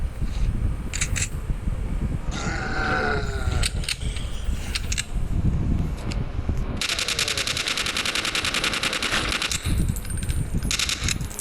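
An MP5 submachine gun fires in the video game Mutant Zone. A rapid, steady burst of shots runs for several seconds in the second half, with scattered clicks and other game sounds before it.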